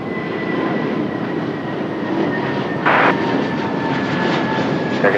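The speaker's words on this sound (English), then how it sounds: "C-2135, runway 23 left, clear to land." An aircraft landing on runway 23 left at Raleigh-Durham airport, a steady roaring engine drone heard from a distance, with a faint whine over it and brief louder gusts.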